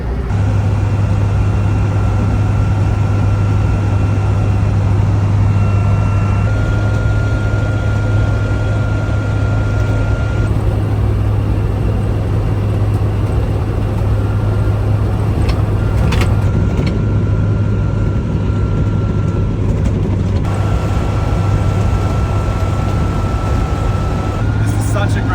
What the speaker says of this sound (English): This is such a great time for driving the Landy.